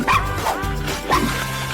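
A dog on a television show about dogs gives a few loud, close yipping barks in quick succession, with whiny rising and falling tones between them.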